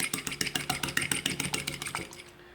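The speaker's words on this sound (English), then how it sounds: "let's just whisk that up." Fork whisking an egg in a medium to large bowl, a quick steady run of bright clicking taps that slows and fades near the end.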